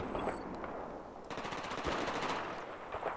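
Rapid bursts of automatic video game gunfire, loud and close, with sustained machine-gun rattles and single shots, no talk over them.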